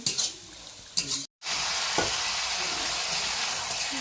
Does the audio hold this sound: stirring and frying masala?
yes